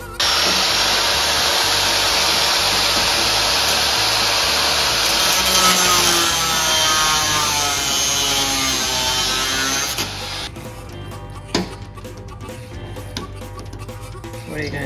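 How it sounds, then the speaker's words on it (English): A high, loud grinding whine of a cutting tool biting through the drill-bit end of a metal screw runs for about ten seconds, then stops, leaving clatter and handling noise. "I'm going to go ahead and cut off the drill bit end of this screw."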